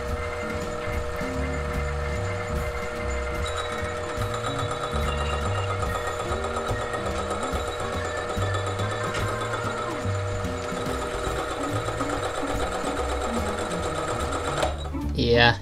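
A hole saw cuts a miter into a bicycle frame tube on a lathe, producing a steady, loud mechanical whir and grinding chatter that runs continuously and ends in a sharper clunk.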